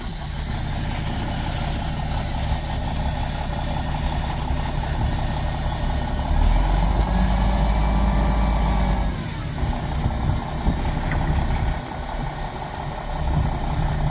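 A truck engine idles nearby while the truck is backed into position at a land-clearing site, a steady low rumble that swells louder partway through as the engine works, then settles back to idle.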